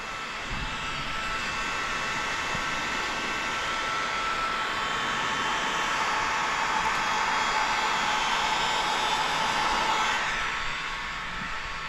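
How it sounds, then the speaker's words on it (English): A heat gun blows steadily while warming the paint protection film edge on a 2024 Toyota Camry rear bumper, a continuous loud hot-air roar with no talk over it. "So you want to heat that edge up and then run over it with your finger"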